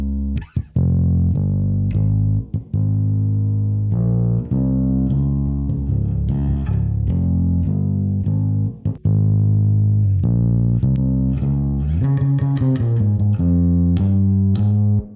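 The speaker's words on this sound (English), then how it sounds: "we're adding a bit of reverb and driving the mids up a little bit" An electric bass played through the Taped Spaces reverb with chorus, the mids pushed up: a melodic line of sustained, rich notes with a few short breaks, loud and alone.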